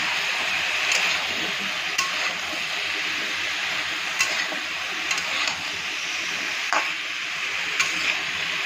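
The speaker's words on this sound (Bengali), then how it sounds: "এভাবে সবজিগুলো একটু ভালো করে ভেজে নেবেন" Vegetables for sambar frying in a pan give a constant close sizzle, broken by a few sharp ticks and clinks of stirring, with no voices over it.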